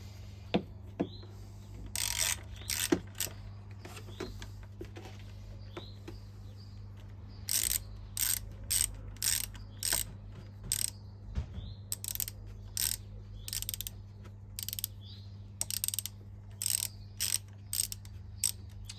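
A ratchet tightens a clamp on a Peugeot 207 1.6 HDi engine during cylinder head removal: sharp ratchet clicks come in quick rhythmic runs, broken by pauses, close and fairly loud, with no speech.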